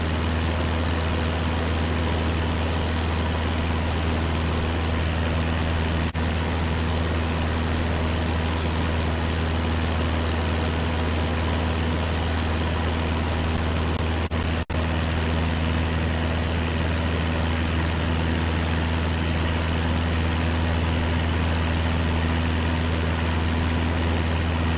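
Light aircraft piston engine cruising at 2,450 rpm at 1,600 feet along a coastal route, a steady droning hum with strong low tonal harmonics that holds constant and loud for the whole stretch.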